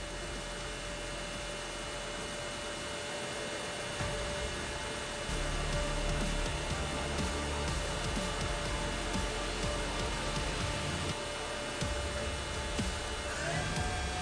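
Chevalier QP1620L high-speed vertical machining center with its spindle running at 8,000 RPM, a steady loud whirring hum with a constant whine, continuous throughout with no voices.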